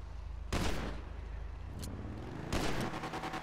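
Gunfire in Grand Theft Auto V: two sharp, loud bursts of shots a couple of seconds apart, with a brief crack between them and a low background rumble.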